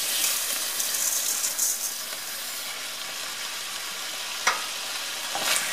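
Chicken and rice stirred in a frying pan, a steady close sizzle with soft scraping of the utensil and a couple of sharper clacks near the end.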